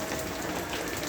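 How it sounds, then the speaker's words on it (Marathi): Rain pours down in a dense, even hiss that fills the whole moment, steady and close with no voices. "पाऊस बघितला."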